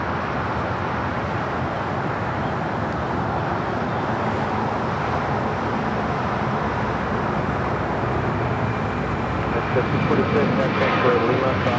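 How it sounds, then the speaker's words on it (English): An American Airlines Airbus A321 departs LAX for Atlanta, a broad continuous jet roar held at a distance across the whole stretch, swelling slightly near the end amid airport traffic noise. "Next departure that you're going to hear is American Airlines flight 1315 heading to Atlanta, Georgia in an A321."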